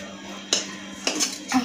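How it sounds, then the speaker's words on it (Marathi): Crispy potato manchurian is scooped out of a pan onto a plate with a metal spoon, giving three sharp clinks and scrapes close by, with nobody talking. "आता मी हे सगळं एकत्र मिश्रण प्लेटमध्ये काढून घेणार आहे।"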